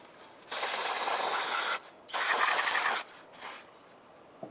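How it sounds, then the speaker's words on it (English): Brake cleaner sprays onto an engine surface near a coolant temperature sensor on a 2007-2015 Mazda CX-9 in two long, close, loud hissing bursts, then a brief softer spritz and a faint tap. "we're going to clean this surface with a rag and some brake clean"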